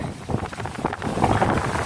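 Heavy rain pours down in strong wind, a loud, steady, roaring rush of noise with gusts buffeting the microphone throughout and no voices.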